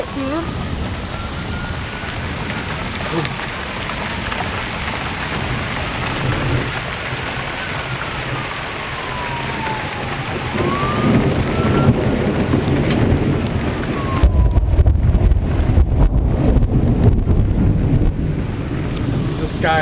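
Heavy rain pours steadily in a thunderstorm, a dense hiss throughout, with deep thunder rumbling and swelling louder toward the end; people talk intermittently over it.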